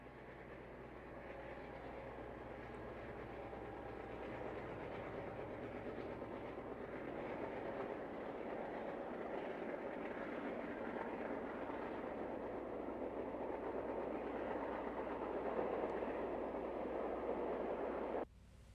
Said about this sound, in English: Near St. Thomas, Ontario, Wabash train number 27 crosses a spidery trestle.